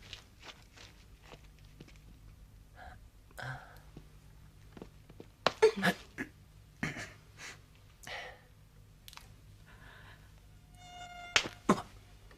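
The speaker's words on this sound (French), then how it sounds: "Voilà les moustiques." Mosquitoes whine in short bursts through a martial arts film scene, with scuffling footsteps, breathing and gasps around the thin buzzing, which grows sharp and close near the end.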